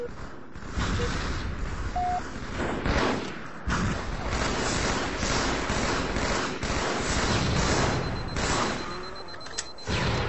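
Rapid gunfire from a Halo 2 Team Slayer match runs throughout, dense and steady with repeated shots and thuds, while players talk over it.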